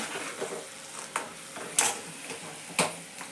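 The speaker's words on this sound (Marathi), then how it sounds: "आता मी शेंगदाणे तळते" Peanuts fry in a pan over low gas with a steady soft sizzle, broken by occasional clinks and scrapes of stirring against the pan. No one speaks.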